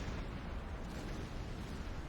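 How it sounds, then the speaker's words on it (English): Rumbling blasts aboard a burning ship in the submarine game Silent Hunter 5, a steady low roar of muffled explosions heard from a distance without clear separate bangs. "There's obviously explosions going on which we don't get to see."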